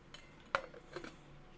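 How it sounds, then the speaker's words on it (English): Ice in a glass of water clinks faintly: one sharp chink, then a couple of softer taps, all quiet and close. "I got ice in here though, but it's melting. Can you hear?"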